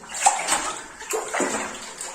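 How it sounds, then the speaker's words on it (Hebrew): Clean spring water runs and splashes steadily close by along a sea-to-sea hiking trail, with a continuous gushing wash and small surges, and no voices. "זה מעיין, של מים נקיים."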